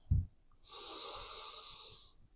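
A slow, deep inhale during a beginner Pilates warm-up, a steady airy breath lasting about a second and a half, close and quiet, after a soft low thump.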